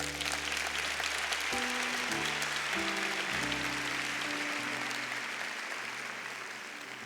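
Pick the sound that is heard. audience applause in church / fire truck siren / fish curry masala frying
audience applause in church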